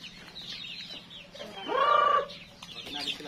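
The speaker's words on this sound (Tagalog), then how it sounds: "So magpapakain din tayo ng mga manok." Chickens on a backyard farm, including a black Japanese bantam and native crosses, give a soft scattered clucking, with one louder squawking call rising near the middle, close and fairly quiet over a low background hum.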